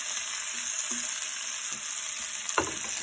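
Chicken thigh steak with potatoes sizzling in a cast-iron Dutch oven, a dense continuous hiss with light clicks and a small knock near the end, close and steady with no voices.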